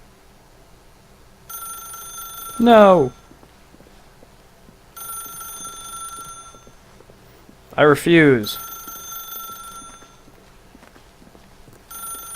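A telephone rings in the video game The Stanley Parable, sounding in repeated bell-like bursts separated by pauses, with a voice speaking loudly between the rings.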